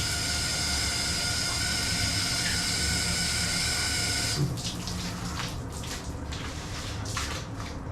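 Shower water runs steadily in a bathroom with a broadband hiss, then the spray shifts partway through into uneven splashing and spattering, close and fairly loud throughout.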